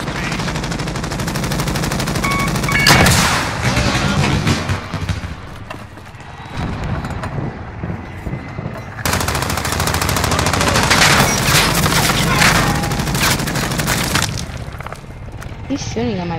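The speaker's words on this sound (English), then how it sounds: "He's shooting at my body every time I shoot at that." Rapid gunfire bursts in a Call of Duty: Modern Warfare multiplayer match, loud and sustained in two long stretches, with a player talking over the shooting.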